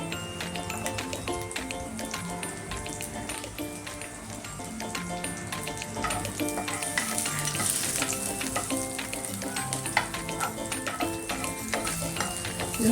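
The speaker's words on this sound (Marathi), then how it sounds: "लसूण थोडा परतून घालायचा" Garlic sautés in oil in a pan for bitter gourd curry, with steady sizzling and frying crackle, occasional stirring taps of a utensil, loud and close throughout.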